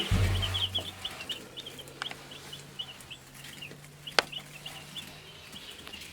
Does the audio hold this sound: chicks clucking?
yes